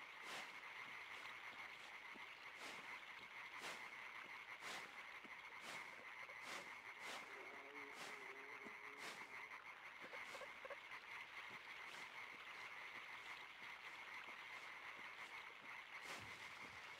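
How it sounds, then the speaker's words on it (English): Frogs croaking in the dark puzzle-platformer Limbo, sharp croaks repeating at irregular intervals over a steady, quiet ambient drone, with no talking. "I can hear some frogs."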